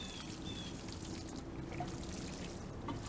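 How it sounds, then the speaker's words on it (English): Freshly sown green bean seeds are watered in, with a steady pouring, trickling stream running continuously and fairly quietly throughout. "we're going to water this in"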